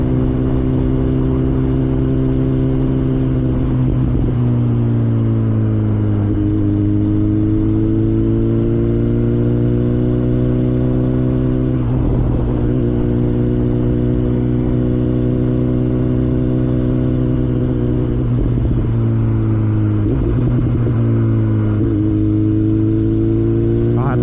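A BMW S1000RR motorcycle engine drones steadily while being ridden, a loud close hum whose pitch slides up and down with gentle throttle changes, with wind rush over the top throughout.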